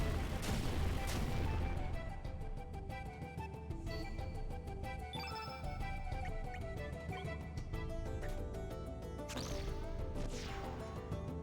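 A magma bomb attack in the Chrono Cross video game brings loud, booming blasts and crashing impacts layered over dense game music, with a strong burst near the start and more hits toward the end.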